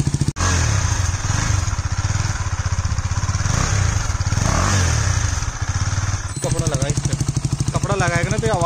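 A KTM Duke 250 with its dB killer removed idles and revs close up, its exhaust giving a loud, rapid, throbbing bark with a slight leak, as someone speaks over it toward the end.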